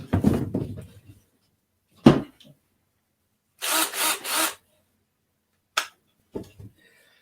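A spade bit of one and one-eighth inch bores into wood while a small arcade controller box is built. Short bursts of drill whir and grinding come up close, separated by silent gaps, with no voices.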